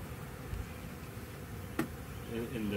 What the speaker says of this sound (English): Very chill bees.